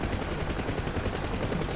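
A helicopter door gun fires in the DCS Huey flight simulator, a rapid loud burst of shots over the steady rotor and engine drone, lasting under two seconds.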